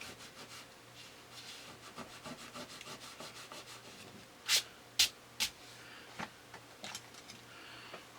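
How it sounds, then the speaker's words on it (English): Masking fluid being rubbed off a watercolour painting of zombie dinosaurs, soft close scratchy rubbing strokes with a few sharper brief scrapes midway, quiet and alone. "I'm going to rub the masking fluid off the toenails."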